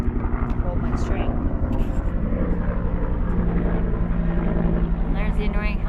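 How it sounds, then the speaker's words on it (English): A helicopter drones overhead above a vegetable garden with a steady, pulsing rotor chop throughout, fairly loud and continuous, while a person speaks over it. "And there's the annoying helicopter."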